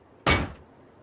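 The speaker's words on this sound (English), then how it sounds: "Doors." A single door in the game Rust opens or shuts with one sharp thump and a short rattling decay, close and alone against a quiet background.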